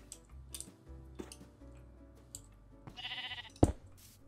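A Minecraft sheep bleats once, a short wavering cry over soft background music, followed by a sharp click.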